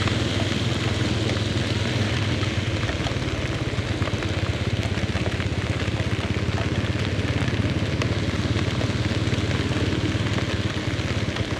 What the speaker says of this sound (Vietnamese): Tắm mưa Đà Lạt luôn rồi quý vị ạ.